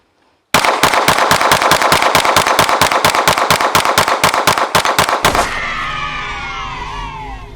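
A Sig Sauer P365-FUSE pistol firing a rapid string of about two dozen evenly spaced, loud, close shots, then a ringing echo that fades away after the last round.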